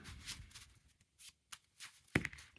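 A deck of playing cards from a card game is shuffled by hand, a series of soft, quick riffling and snapping bursts in irregular rhythm, close and quiet, ending with a sharper slap.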